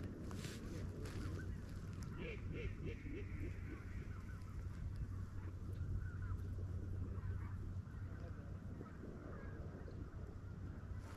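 Geese honking over a flooded rice field during a duck hunt, a scattered chorus of calls at moderate distance under a low wind rumble, with quiet voices talking nearby.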